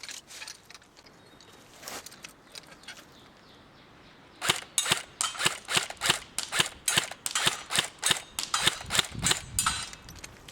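Airsoft gun firing BBs in semi-automatic mode at knockdown targets: about a dozen sharp, separate cracks with short gaps between them, close and fairly loud, following a few quieter snaps at the start.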